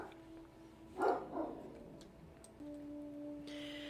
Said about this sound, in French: Je vais faire taire mon chien